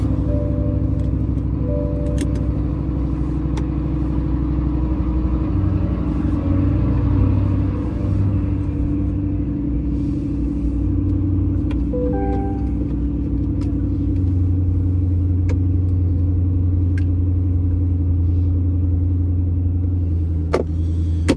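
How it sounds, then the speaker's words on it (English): Car engine idling right after a cold start while warming up before driving off: a steady, continuous low rumble with a faint mechanical hum, close and constant throughout, with no talking. "I'm gonna let the car warm up a little bit before we take off."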